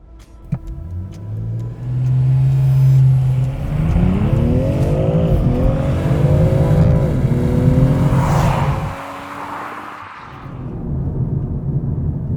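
A BMW M340i accelerates hard from a standstill on a closed, empty road, its engine revving loudly through several rising gear sweeps with brief dips at each upshift, close and continuous, ending as the car eases off.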